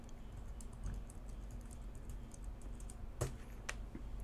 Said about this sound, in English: you have to click on add on this member of tab and then type in administrators